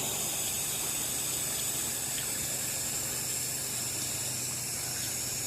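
Pressure washer spraying water over stucco, a steady, loud, unbroken hiss and gush that runs throughout.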